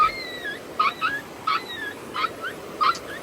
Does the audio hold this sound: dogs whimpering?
yes